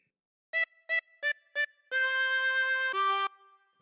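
Solo harmonica plays the second phrase of Old MacDonald Had a Farm: four quick, evenly spaced short notes followed by a long sustained tone and a shorter final note, bright and close.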